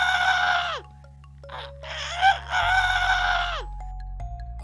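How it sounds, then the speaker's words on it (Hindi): A cartoon rooster on a farm crows loudly in long, strained, wavering calls, one drawn-out crow followed by another after a brief gap, with a faint steady hum underneath. "एक मुर्गा जोर जोर से चीख रहा था"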